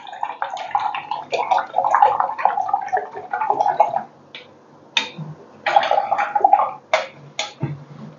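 A paintbrush is rinsed in a water jar between strokes of a rainbow diamond painting, giving close, irregular swishing and sloshing bursts with short pauses between them. No voice is heard.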